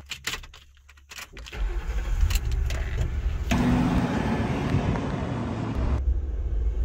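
Keys jingle close by, then an old restored police car's engine cranks and starts, settling into a steady idle. A louder rev follows before the engine drops back.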